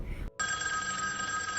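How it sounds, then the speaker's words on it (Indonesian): A telephone rings in Squid Game episode 6, a steady electronic ring that starts after a brief silence and continues loud and unbroken. "Tiba-tiba ada telepon berbunyi."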